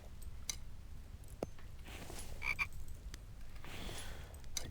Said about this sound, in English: seeing a frog just glancing around outside like that